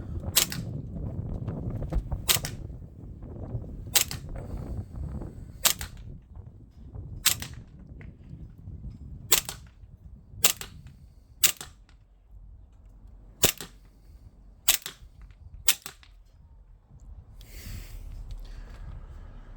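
Springfield Armory XDM 3.8 Compact CO2 4.5mm BB pistol fires about a dozen sharp, snappy cracks at uneven intervals, close and clear over a low background rumble.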